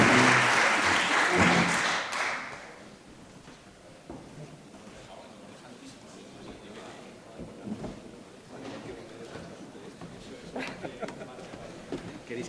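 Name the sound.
audience applause for panel guests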